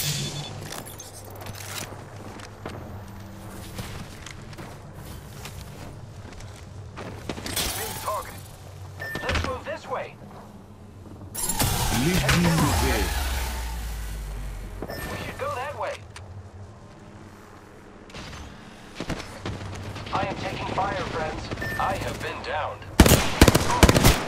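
Rapid machine-gun bursts and scattered gunshots during ranked Apex Legends combat, loud and close at times, with a heavy surging rumble midway and short in-game voice callouts between volleys.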